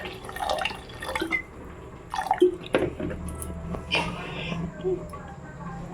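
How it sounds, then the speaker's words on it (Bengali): Water is poured into a pot of vegetable khichdi being cooked as baby food, giving a soft, uneven splashing and trickling at close range beneath a speaking voice. "জল দিয়ে দেব পরিমাণ বুঝে"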